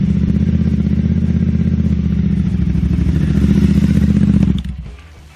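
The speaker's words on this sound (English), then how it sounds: "this is probably one of the best sounding exhausts for the Scrambler." A Triumph Scrambler motorcycle fitted with an Arrow 2:1 high side exhaust idles close up with a loud, steady, grunty throb for several seconds, then cuts off abruptly near the end.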